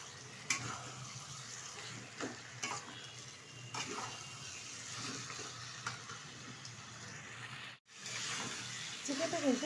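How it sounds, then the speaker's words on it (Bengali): Chicken being stir-fried and cooked down in a pan, a soft continuous sizzle with scraping spatula strokes and occasional clinks, fairly quiet, with a brief dip near the end. "চিকেনটা দেওয়ার পর কিন্তু আমি বেশ কিছুক্ষণ একটু কষিয়ে নেব।"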